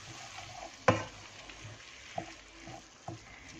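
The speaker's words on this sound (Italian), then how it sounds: "Sempre mescolando, perché è importante amalgamare i sapori." Chicken livers mashed to a cream with chopped walnuts are stirred in a frying pan over a soft sizzle, with a sharp scrape near the start and a couple of lighter knocks of the spoon later.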